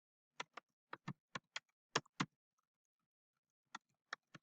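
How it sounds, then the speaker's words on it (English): Keys on a computer keyboard tapped in short, irregular bursts of clicks with pauses between, close and fairly quiet with no other sound. "You can see me typing it in there right as we go."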